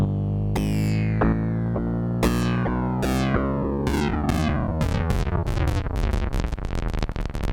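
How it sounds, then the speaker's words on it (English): EMS Synthi synthesizer playing a repeating sequence of bright, harmonically rich tones. Each note sweeps downward, and the notes come faster and faster as the clock rate is changed, building into a dense, rapid pattern. "As I increase it, you will hear the clock, the sample rate going down and the frequency going up."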